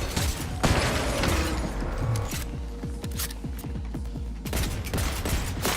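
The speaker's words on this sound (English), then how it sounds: "I didn't even see what I'm shooting at." Rapid, sustained automatic gunfire rattles through a Cyberpunk 2077 Phantom Liberty firefight, with dense bursts of shots and mechanical clatter continuing loudly throughout.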